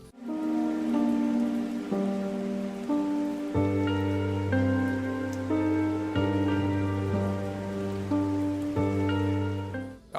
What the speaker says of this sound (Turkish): Son çıkardıkları şu yağmur videosu birazdan koyacağım böyle biraz sesini.